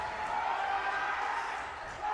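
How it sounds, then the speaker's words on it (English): Spectators in the stands of a gym roar faintly and steadily during a girls' basketball game between SPC and Bradenton Christian, a distant, even wash of crowd noise. "You hear that cheer from the stands?"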